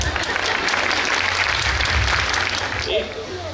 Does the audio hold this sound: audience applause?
yes